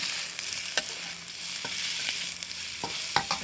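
Shrimp fry in a pan with garlic and the white part of green onion: a steady close sizzle, broken by several sharp scrapes and taps of a utensil stirring, with no talking.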